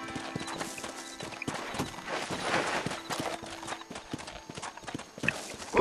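A horse's hooves clip-clop in a steady walking rhythm in the video game Red Dead Redemption, close and moderately loud, with no talking over them.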